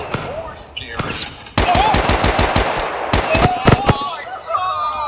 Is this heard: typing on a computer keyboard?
no